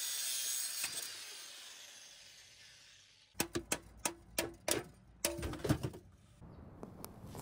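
Clamp on the exhaust pipe of a 1999–2005 MK4 1.8T Jetta being cut off, a fading hiss giving way to a run of sharp, close, rhythmic metallic cutting strokes, roughly ten in quick succession.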